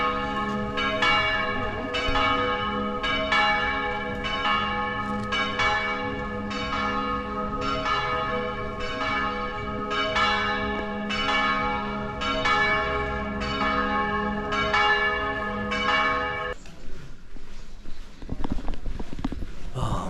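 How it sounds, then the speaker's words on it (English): Church bells in San Marino peal continuously in a rich, overlapping ringing, loud and resonant, then stop abruptly, leaving faint street ambience and footsteps. "The church bells swing."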